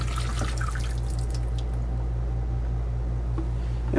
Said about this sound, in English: we're going to drain it out in the sink up here